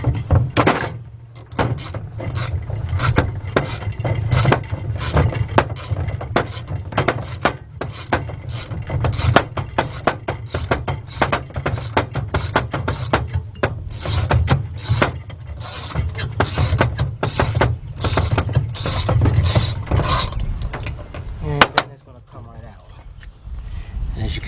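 A wrench works loose a stud on the intake manifold of a Suzuki XL-7, making rapid, close, repetitive metallic clicking that runs nearly nonstop before ending just before the finish.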